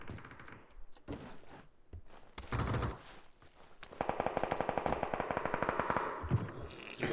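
Gunfire in the video game PUBG: a few scattered single shots, then a long rapid automatic burst of evenly spaced cracks, moderately loud, with no speech.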